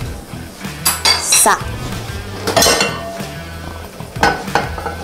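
Minced meat being mashed and stirred in a metal pot with a spoon, loud close clinks and scrapes against the pot in an irregular rhythm over a light sizzle, with a brief word spoken.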